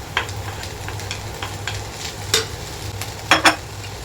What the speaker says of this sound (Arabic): بعد ما شوحت في الجزر شويه كده، يعني حوالي دقيقتين 3، بنزل بالبطاطس